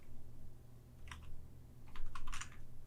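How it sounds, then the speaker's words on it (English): Typing on a computer keyboard in a quiet room: two short bursts of rapid light key clicks, the second longer and busier, close to the microphone over a low steady hum. "just typing in the general things"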